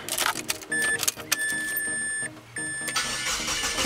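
A Mazda car engine starts after its intake manifold gasket was replaced to fix a vacuum leak. Brief starter cranking catches into a running engine, close and moderately loud, with a faint whine over it.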